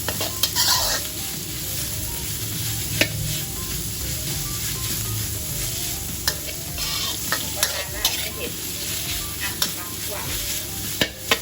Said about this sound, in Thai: ไฟอ่อนเดี๋ยวเราคั่วหมูให้สุกก่อนนะคะ